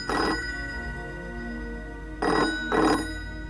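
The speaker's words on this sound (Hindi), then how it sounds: "फोन ठाकुर साहब" A telephone rings twice in an indoor scene from the Hindi TV serial Aurat, giving one short electronic trill, a pause, then a double trill, loud and close.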